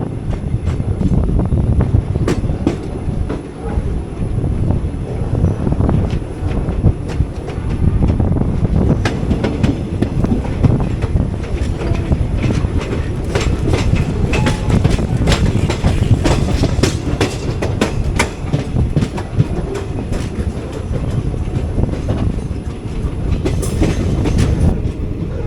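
A 12677 Ernakulam Intercity Express train rolls into Sankagiri Durg station, producing a steady, loud rumble with dense clickety-clack wheel rhythm across the rails throughout and no voices.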